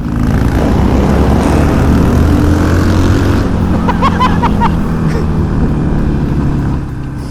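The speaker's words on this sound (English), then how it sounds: "I love tunnel exhaust." Loud, steady Harley-Davidson motorcycle exhaust roar reverberating inside an enclosed tunnel, easing off slightly near the end.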